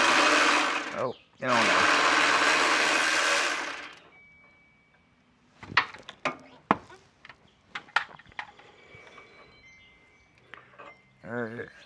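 Power tool loosening the top shock nut on a 2001 Honda Passport, two loud whirring bursts at the start followed by scattered metallic clicks and clanks, with a brief spoken remark.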